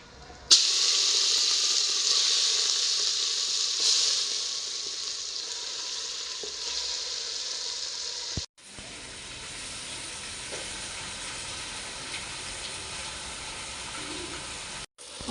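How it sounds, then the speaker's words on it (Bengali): Marinated chicken hitting hot crushed whole spices in a pan for handi chicken, a loud bright sizzle and hiss that eases over several seconds, then a quieter steady frying sound after a brief break. "এখন আমি ম্যারিনেট করা মাংস দিয়ে দেব।"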